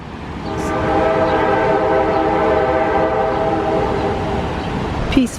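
A train horn sounds in long sustained blasts from a distance, warning as the train nears a road crossing in Ohiopyle State Park, with a faint rumble beneath and brief clatter at the end.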